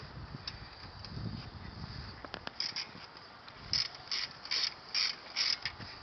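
A ratchet wrench is used to remove car wheels, giving quiet clicking ratchet runs in short repeated bursts amid faint clanks of metal close by, with no talk.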